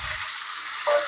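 Potatoes drop into hot oil in a pan after bay leaf and cumin, with a bright sizzle that holds steady and swells briefly near the end; close and short, no talk.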